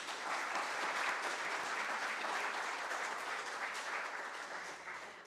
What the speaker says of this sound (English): I want to ask you for an extra round of applause